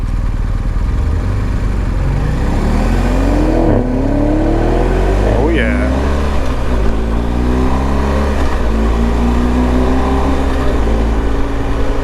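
A combustion engine on a BMW M8 revs loudly and close, rising and falling with burbling exhaust, while a voice briefly reacts over the steady roar.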